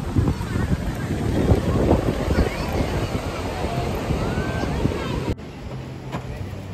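Wind buffets the microphone at Kelva beach near Palghar with a low rushing roar and a surf-like wash, loud at first and then quieter, while a voice is heard faintly.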